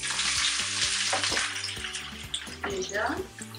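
Onions frying in a pot for mafé make a steady, loud sizzle that runs the whole time, with faint kitchen clatter and a voice talking over it.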